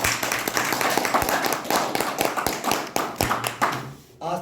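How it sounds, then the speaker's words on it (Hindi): Loud clapping from a seated audience at an AWPL business plan meeting: brisk overlapping hand claps with a few sharper individual claps, fading out just before the end. "जोरदार तालियां"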